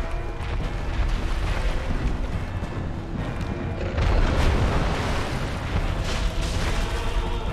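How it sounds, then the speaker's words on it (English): Booming explosion attack from the Stray Demon boss in the Dark Souls video game, a loud sustained rumbling blast that swells and intensifies partway through, with no talking over it. "he's going to do the explosion again"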